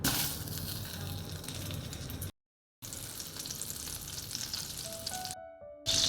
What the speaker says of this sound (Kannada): ಸೊ ನಾನು ಇದಕ್ಕೆ ಇವಾಗ ಬಟರನ್ನು ಆ್ಯಡ್ ಮಾಡ್ಕೊಳ್ತಾ ಇದ್ದೇನೆ